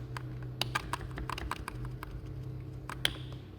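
Keys clicking on a computer keyboard while setting up MS-DOS and Windows 1.0, with scattered sharp taps and one firmer Enter press over a steady low electrical hum.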